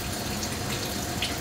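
Rechargeable electric water pump fitted on a bottle dispenses water in a continuous, even splashing stream, heard close with no voices.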